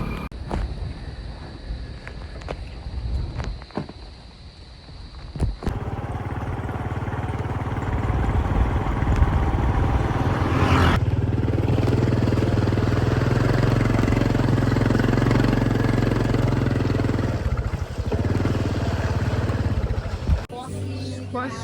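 A motorcycle with rainwater in its engine runs and idles roughly after heavy rain, a steady mid-pitched engine drone with wind buffeting the microphone and abrupt shifts in loudness.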